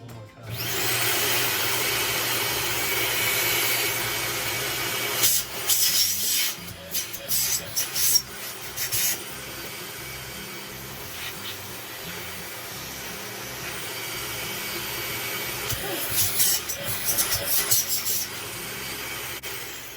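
A Dyson DC40 Animal upright vacuum cleaner with a roller ball runs steadily with a broadband whooshing roar, punctuated by brief rattling and rubbing bursts midway as it works, with no talking.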